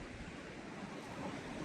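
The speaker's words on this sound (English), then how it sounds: "I can sit on the beach for hours, just listening to the water" Sea surf at Porthleven beach in Cornwall, a steady broadband wash of breaking waves with some wind rumble, continuous and fairly loud throughout, no voices.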